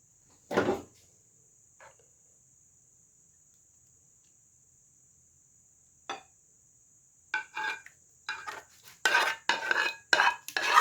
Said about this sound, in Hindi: अब हम जो है कस्टर्ड डिश आउट करेंगे